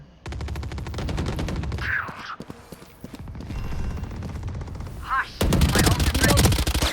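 Rapid automatic gunfire in the shooter game Valorant rattles in dense bursts, pausing briefly, then returning louder and harsher near the end; a voice is faintly audible underneath.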